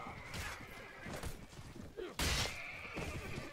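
Horses neigh and whinny in a battle in the game Mount and Blade: Warband, several cries over hoof clatter and a sharp crash midway, fairly faint overall.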